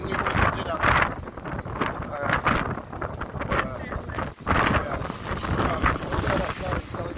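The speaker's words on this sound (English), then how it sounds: "and extremely windy tonight." Strong night wind gusting along the seafront at Bispham, buffeting the microphone with loud, continuous roaring rumble and surges, while a person talks over it.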